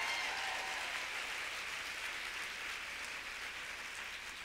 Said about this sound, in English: How about a little round of applause for our First Lady?